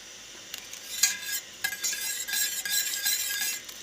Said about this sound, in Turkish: Şöyle tereyağımı eritiyorum.